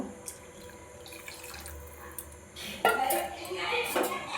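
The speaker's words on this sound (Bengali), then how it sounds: "সেদ্ধ মটর দিয়ে দেবো আরও একটু জল দেব" Water is poured into a pot of boiled peas for Bengali ghugni, a splashing gush near the end following quieter kitchen clatter and clinks.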